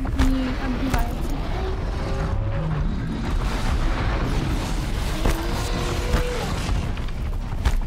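Rumbling blasts and booming explosions in the video game Horizon Zero Dawn, heavy low impacts layered over continuous game noise with tonal effects scattered throughout.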